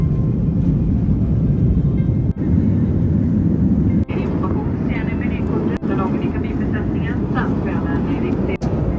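Loud, steady engine roar inside an airplane cabin during a flight from Dublin to Copenhagen, a constant broadband drone with faint voices in the background.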